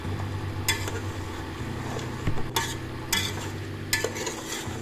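Mutton with ground black pepper stirred in a pot for curry, a low steady sizzle with a few scraping, clinking strokes of a spoon against the metal, close up and without speech.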